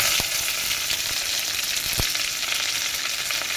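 Curry leaves and garlic sizzle and spit in hot oil for a Karnataka-style wedding rasam tempering, a steady loud hiss broken by a few sharp pops, with no voices.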